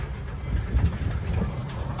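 A train on the rails near a station on the Cumbres & Toltec steam railway between Chama and Antonito, a steady low rumble of rolling wheels with faint clickety-clack close by.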